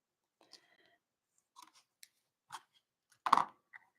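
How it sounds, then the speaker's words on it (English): Ribbon scissors handled at a papercraft desk during card making, with a few scattered soft clicks and snips, then one sharper metallic snip-and-clatter near the end, quiet and close. "And my ribbon scissors are right here."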